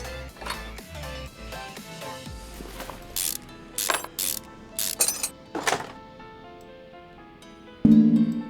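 Ratchet removing engine parts such as crankshaft caps and pistons in Car Mechanic Simulator 2021, scattered clicks, short ratcheting bursts and mechanical thunks, close and irregular, ending in a louder clunk.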